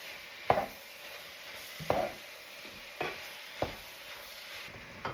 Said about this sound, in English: we're going to give that a stir